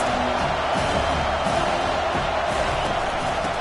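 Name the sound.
stadium crowd noise at a college football game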